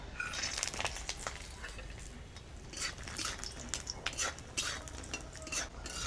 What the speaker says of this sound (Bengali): প্রথমে বড়িগুলো ভেজে নেব।